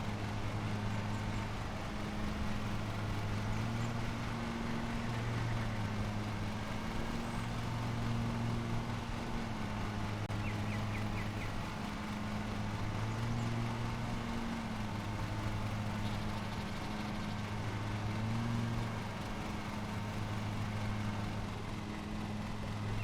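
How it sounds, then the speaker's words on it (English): A small lawn mower engine in Lawn Mowing Simulator hums steadily at a low pitch, its tone rising and falling in slow cycles, with no voices. "Here I go with my lawnmower."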